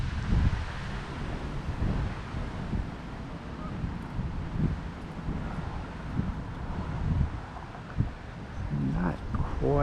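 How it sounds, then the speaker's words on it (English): Gusty wind buffets the microphone, a rough rumbling roar rising and falling throughout, with a voice speaking briefly underneath. "Not quite as windy today as it was yesterday in that storm."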